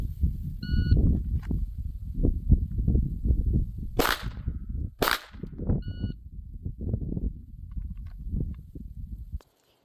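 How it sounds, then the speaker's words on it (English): Two loud sharp pistol gunshots ring out about a second apart from a kneeling shooter behind cover, set against a steady rumble of outdoor noise, with short electronic timer beeps before and after. "2 shots from behind cover, kneeling."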